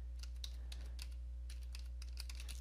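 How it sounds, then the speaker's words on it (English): Steady typing on a computer keyboard, a quick close run of light key clicks in small bursts over a constant low electrical hum, with no talking. "So just type in LM compatibility"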